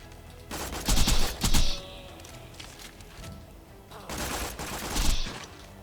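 Bursts of gunfire in Borderlands 2 aimed at spider enemies, with two clusters of loud rapid shots separated by a quieter stretch of ambient game noise.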